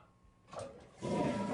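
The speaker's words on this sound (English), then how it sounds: "They make a great flushing sound." A household toilet flushes, a faint rush starting midway that swells into a louder, full water roar.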